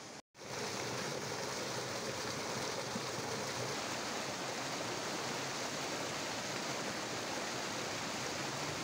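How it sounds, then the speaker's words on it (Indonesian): Water from the Curug Cibulao waterfall in Megamendung, Bogor, pours and flows over river rocks. It is a loud, close, continuous rushing roar with no voices. "Dan suara airnya udah gemericik, cantik banget, manggil-manggil yuk sini yuk main-main air di sini."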